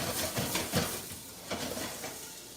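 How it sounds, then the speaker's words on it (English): Green beans sauté in avocado oil in a pan, giving a soft, quiet sizzle with a few light scraping stirs and clinks from a utensil. "And now that those green beans are sauteing"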